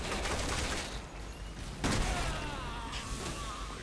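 Assault rifle gunfire in Resident Evil 6, dense rapid shots blending into a continuous crackling barrage with one heavier blast midway, loud and close.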